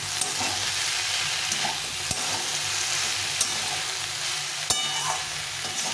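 Vegetables frying in a pan with salt and turmeric for a fish curry, giving a close, continuous sizzle with occasional stirring clicks and scrapes, no voices.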